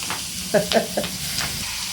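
Dried fish and chili frying in hot oil in a home kitchen, giving a steady close sizzle with a few sharper spattering pops and stirring scrapes.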